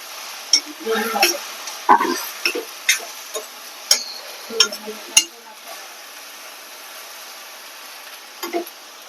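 Taro leaf knots (aluchya gathi) stirred in a pan for a traditional Konkan village recipe, with repeated close scraping and clacking strokes in an irregular rhythm over a soft sizzle, a voice speaking faintly at times.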